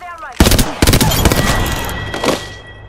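Apex Legends gunfire: several sharp, loud bursts of rapid shots in quick succession, followed by a trailing rumble and one more burst, with a voice speaking underneath.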